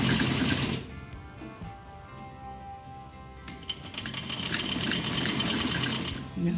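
A sewing machine stitches printed palazzo fabric with a steady, close mechanical whirr that runs continuously, and a voice speaks over it at times.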